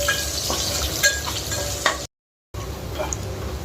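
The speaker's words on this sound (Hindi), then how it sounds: "हमर ये तेल गरम पके दवा पियाज" Onions fry in hot oil with a bright, close sizzle and a few scraping stirs, broken by a brief dead gap partway before the crackle resumes.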